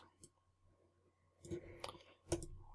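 Mouse clicks on a computer while working in cutter software settings, a few sharp isolated clicks spaced apart over quiet background.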